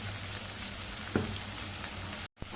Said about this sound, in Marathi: कांदा आणि टोमॅटो परत एकदा चांगलं परतवून घेतलंय.